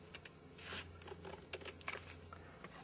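Scissors cut a 1.5 inch strip of material in a quiet room, giving faint, close snips and crisp rustling that come in a loose, uneven series.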